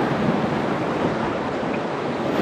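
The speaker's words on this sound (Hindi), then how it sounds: "नदी बहुत ज्यादा शोर कर रही है" A loud rushing river, its water roaring in a constant, dense wash of noise that stays steady throughout with no voices audible.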